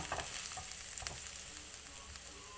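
Asparagus and pork stir-frying in a pan, a steady close sizzle with faint scraping and stirring knocks, no voices.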